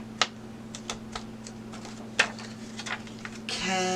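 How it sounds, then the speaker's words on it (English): Clear acetate sheet being folded along scored creases for a 3x3 treat box, giving a string of sharp, crisp plastic crackles and snaps spaced irregularly, close and fairly loud against a low steady hum, with a brief rustle at the end. "we're gonna fold on the creases"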